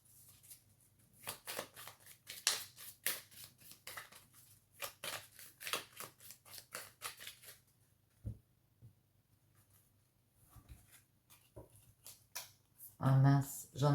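Tarot cards being shuffled by hand for a horoscope reading: a long run of quick, crisp riffling and slapping bursts in an uneven rhythm, close and moderately loud, ending with a louder rustle.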